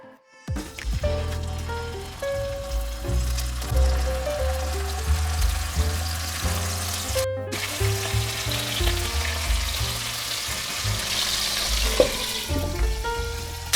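Mullet pieces pan-frying in about 50 cc of sesame oil for a winter mullet rice-noodle soup, giving a steady close sizzle with crackling pops and a few utensil stirs, unbroken apart from a brief dropout.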